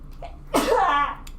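A single close, loud sneeze with a sharp intake and explosive burst lasting under a second, in an otherwise quiet room.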